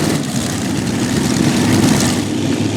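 A pulling tractor engine running rich on the right rear engine, a heavy, steady low roar with gritty rumble, loud and continuous throughout at a pulling event.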